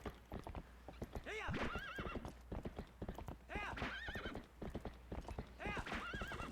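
Epona the horse trotting through Ordon in Zelda: Twilight Princess, steady clip-clop hoofbeats with repeated loud whinnies and neighs, close and clear with no talk.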